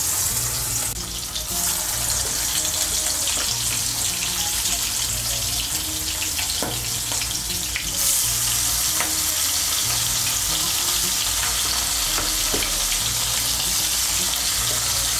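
Large shrimp coated in turmeric fry lightly in a pan, a constant crackling sizzle with occasional spatters and soft stirring, heard close and alone with no talk.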